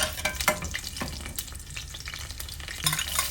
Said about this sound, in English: I'm going to add all the masala like star, bay leaves, curd, jeera, all just saute for